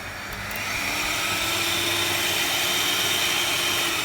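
Electric hand mixer whirring steadily through brownie batter, a loud continuous motor drone rising over the first half second and then holding even, with no talking.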